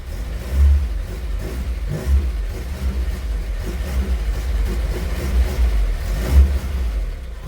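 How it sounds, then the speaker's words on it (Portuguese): A 1960 car engine revs while accelerating to maneuver, a deep rumbling throb with uneven surges and pulses of low-end power, loud and close throughout. "Então você tem que acelerar um pouco a mais que o normal."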